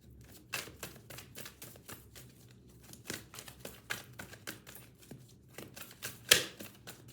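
Tarot cards are shuffled and handled at close range, a run of quick, crisp flicks and snaps coming in uneven bursts, with one sharper slap near the end and no speech.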